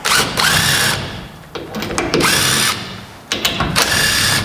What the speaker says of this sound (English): always first install the wheel nuts with your hand, because if you just put them in the impact wrench and send it, you might cross thread it